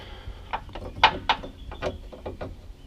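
A wrench works on a hydraulic line fitting of a Bennett 12-volt trim tab hydraulic power unit, giving a quick series of close metallic clicks and ratcheting ticks, irregular and moderately loud, with no one talking.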